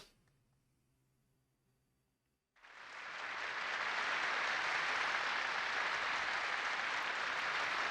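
In the video game White Album 2, after a quiet stretch, loud applause and cheering from a large concert audience erupts and holds steady, dense and sustained.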